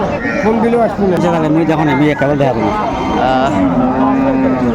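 Cattle low loudly and continuously at the Aftabganj livestock haat in Dinajpur, where cows with calves are being sold, with long drawn moos rising and falling close by over steady market noise and background chatter.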